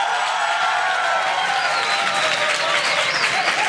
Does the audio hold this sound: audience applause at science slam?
yes